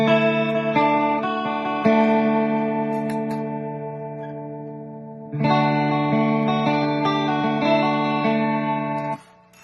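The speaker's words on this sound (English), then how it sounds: "there's your fake Leslie effect" A sustained guitar chord swirls with a Leslie-style rotating, wavering modulation effect that ramps in speed, briefly dropping before ringing out again and fading at the end.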